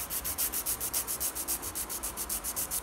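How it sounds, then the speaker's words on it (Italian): A nail file of 180 grit works over an acrylic gel almond-shaped nail, giving fast, steady back-and-forth rasping strokes in an even rhythm, close and alone without talk. "Vado prima a dare una limatura alla forma, così mi escono bene gli spessori, e poi vado a limare tutta la struttura."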